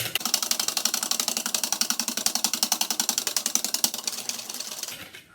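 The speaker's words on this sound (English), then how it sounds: "Now you need to whisk this until it has like a spooning consistency." Swiss roll batter whisked to a thick, spoonable consistency with an electric mixer, giving a steady rapid rhythmic whirring and rattling close by that runs for several seconds, then stops abruptly near the end.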